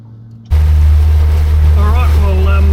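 A boat's motor starts about half a second in and runs loud and steady with a deep drone on a fishing trip in Port Phillip Bay, with a faint voice briefly audible over it.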